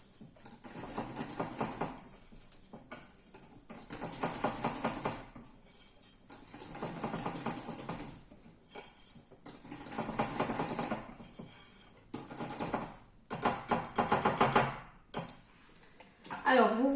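A spoon or whisk stirs fluid hazelnut cake batter in a bowl with repeated scraping and clinking strokes. The bursts are quiet and rhythmic, separated by short pauses.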